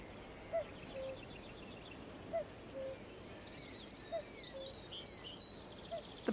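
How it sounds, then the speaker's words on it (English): Cuckoos call in the Burren, Ireland, in spring, a soft two-note cuckoo repeated four times at an even pace and at moderate distance over a faint outdoor hiss. "The cuckoos are arriving."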